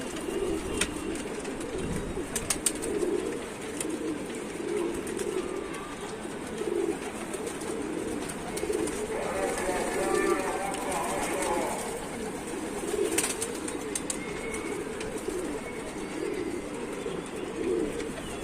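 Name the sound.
pigeons cooing and landing to bathe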